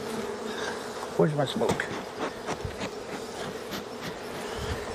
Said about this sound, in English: A lot of bees in here. And they're not happy